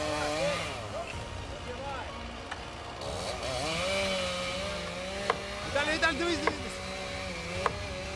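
A chainsaw buzzes steadily through a tree, its whine rising and falling in pitch as it cuts. Several sharp clicks and knocks come near the end, and talk runs over the motor throughout.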